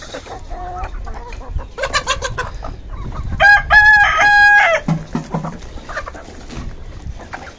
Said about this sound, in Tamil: எல்லா கோழியும் வந்து பார்த்திங்கன்னா எந்த அளவுக்கு எகிரி அசோலா விரும்பி சாப்பிடுதுன்னு பாருங்கள்